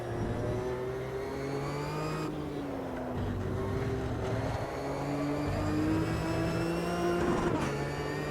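Ginetta G55 GT4 race car engine in the Automobilista 2 sim at Interlagos, a steady loud drone whose pitch climbs and dips with shifts and throttle changes across the whole stretch, no talk over it.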